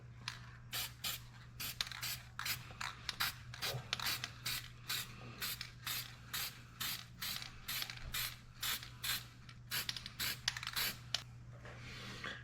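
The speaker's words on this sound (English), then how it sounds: "I'll just spray it on the table." Rapid, rhythmic hissing bursts from an aerosol can of gasket spray, repeated many times in short pulses over a steady low hum, close to the microphone.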